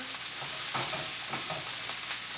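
Broccoli and mushrooms in oil for a stir fry, stirred in a pan: a dense, steady close sizzle with soft rhythmic scraping strokes, no voices.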